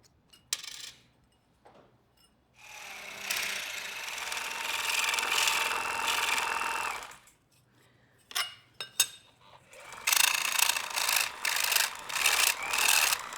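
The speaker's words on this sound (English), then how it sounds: "I just need to file off the tabs." Tabs being filed off a brass part for ship's wheel hardware: two long stretches of steady, close rasping strokes, separated by a quiet pause with a few small clinks.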